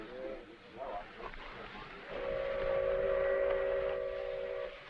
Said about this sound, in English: Sounds to me like the fast freight coming in, filled with all kinds of perishable stuff for market.